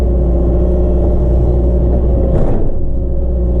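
A hydraulic excavator loading a truck rumbles in a deep, steady engine drone close by, with a brief scraping swell partway through as material shifts.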